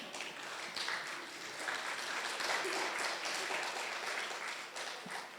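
Audience at an Oman India investor forum conference applauding steadily, a dense, even wash of clapping that holds from start to finish at moderate, slightly distant volume.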